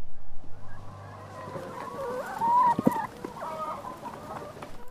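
Hens in an older laying flock cluck in a farm setting, with several soft, repeated clucks and a brief louder call near the middle against low background noise.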